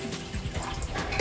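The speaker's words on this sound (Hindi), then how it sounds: "इसमें हम आधा कप पानी डाल देंगे" Half a cup of water pours into a pan to make tea on a home stove, a short close splashing trickle with no talk.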